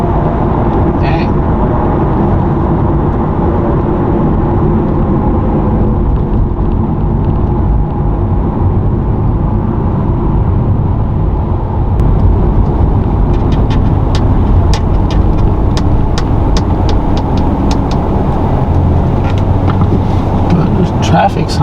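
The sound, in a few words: car driving in traffic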